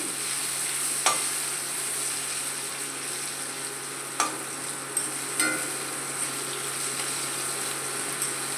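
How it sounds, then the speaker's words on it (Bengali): Potatoes with salt and turmeric fry in oil in a karai, giving a steady, loud, close sizzle, with a few sharp clinks from stirring scattered throughout. "লবণ হলুদ দিয়ে আলুগুলো একটু ভালো করে ভেজে নেব।"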